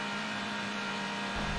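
A tuned car engine in the racing game Need for Speed HP2 gives a short, steady humming drone that swells slightly louder near the end, with no talk over it.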